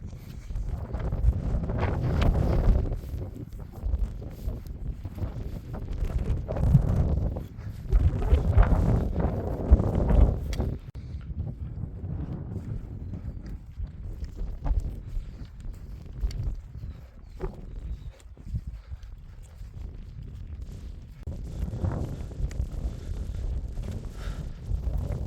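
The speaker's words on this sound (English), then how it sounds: "the wind is still blowing a hoolie" Strong wind gusting across an exposed North Pennines mountaintop, roaring and buffeting the microphone in loud, uneven surges that ease slightly and then build again throughout, with no talking.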